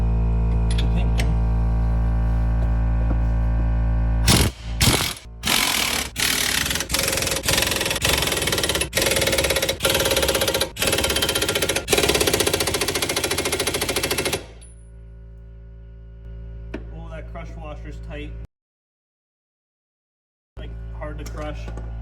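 On a Mustang SN95 drift car, the pinion is tightened with a rapid, loud burst of hammering impact-tool rattles lasting about ten seconds, followed by a quieter engine-like drone and short mechanical clicks, with someone talking.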